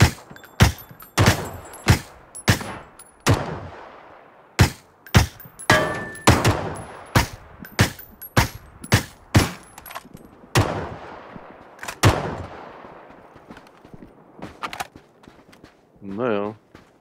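Video game gunfire cracks out in a long series of sharp, loud single shots, spaced irregularly about half a second to a second apart, then thins out, followed by a brief warbling electronic tone.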